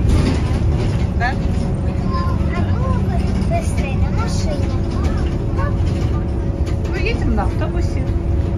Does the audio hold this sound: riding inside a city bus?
yes